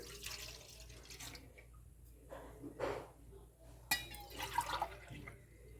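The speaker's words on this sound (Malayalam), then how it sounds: "ഈ പാല് ഒഴിച്ചെടുക്കാം ഒഴിച്ചെടുക്കുക" About one and a half glasses of milk poured into a pan over the flame, a faint, soft liquid pour with a few quiet drips and clinks in a quiet kitchen.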